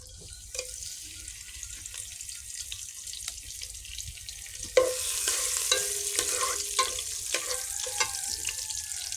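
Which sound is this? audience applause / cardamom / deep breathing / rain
cardamom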